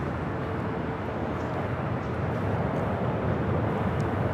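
An American Airlines Airbus A321neo on its takeoff roll at LAX, a broad, steady engine roar that stays loud and constant throughout, with no talking.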